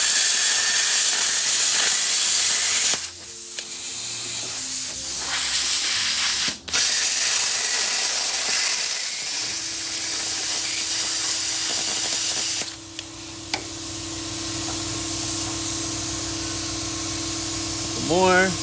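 A plasma cutter trims a CVT cover, producing loud, sustained airy hissing in long bursts with brief pauses and abrupt stops, steady and close throughout.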